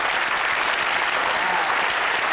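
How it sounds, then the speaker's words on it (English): Audience applause fills a television talk-show studio: dense, steady clapping from a large crowd, loud and sustained throughout with no pause. "everyone applauds that"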